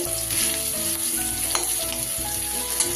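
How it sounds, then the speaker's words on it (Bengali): Pointed gourd (kankrol) frying in a pan, a loud steady hiss of oil with a few soft stirring knocks, close up and uninterrupted, no voices. "সুন্দর করে কিন্তু কাঁকরোলগুলো আমার ভাজা হয়ে গেছে।"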